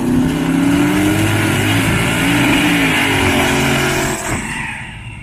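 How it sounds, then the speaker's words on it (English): A loud Dodge-powered S10 race truck revs close by at a Roadkill Nights event, its engine note rising and falling in repeated swells before dropping off and fading near the end. "the night shift S10 rolling up on the right-hand side of this"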